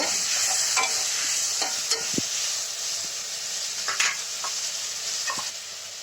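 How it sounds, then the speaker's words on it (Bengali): A cumin spice paste sizzles and fries in a pan while being stirred for a rohu fish curry, a steady hiss broken by scattered scraping and clinking of the spoon. "আবার একটু জল দিয়ে মশলাটা ভালো করে কষিয়ে নেব"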